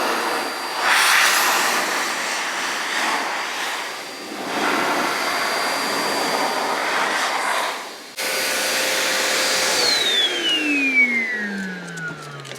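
A Brühl MD1900+ motorcycle dryer blows a steady, loud rushing stream of air with a faint whine, surging and easing slightly, then spools down with a falling tone near the end.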